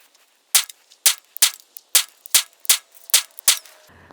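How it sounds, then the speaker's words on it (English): A Glock 42 pistol fitted with a tungsten guide rod fires MagTech ammunition: nine sharp, loud shots in fairly steady succession, ending with a faint mechanical click. "we're gonna shoot first 3 mags of the MagTech."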